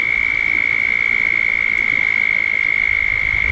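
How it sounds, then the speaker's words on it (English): A loud, steady high-pitched frog call drones on without pause over a constant rushing wash of a waterfall. "That is a loud frog,"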